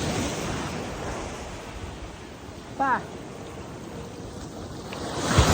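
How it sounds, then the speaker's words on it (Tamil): Steady rushing surf rolls in on an empty sea beach with a casuarina grove nearby, a broad continuous wash with wind, broken by a brief voice-like call midway and a louder surge near the end. "இந்த கடலை பாருங்கள்"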